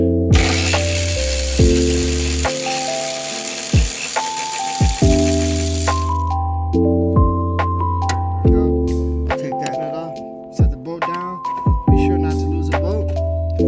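A ratchet with a 10mm socket turns out a battery bracket bolt on a 2013 Toyota RAV4, clicking in repeated short bursts with brief pauses between strokes, close and fairly loud over a steady tonal background hum.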